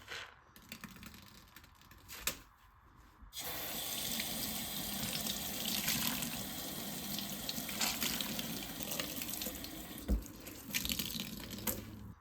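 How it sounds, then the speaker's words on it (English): Running tap water pours steadily into a kitchen sink as a natural coconut cellulose scrub sponge is rinsed of suds, a close, continuous splashing hiss after a few quiet seconds with light clicks and handling. "And we just rinse out the sponge. Let's get the suds out."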